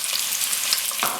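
Onions and curry leaves sautéing in hot oil, a steady close sizzle and hiss that brightens briefly near the end as something is stirred.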